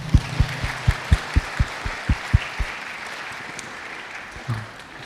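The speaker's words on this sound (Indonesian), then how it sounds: "Mari bersama-sama kita tepuk tangan yuk untuk Bapak Ibu guru kita." Audience at an elementary school graduation farewell ceremony claps for the teachers, a dense round of applause with a few sharp nearby claps standing out, then tapering off quickly into near silence.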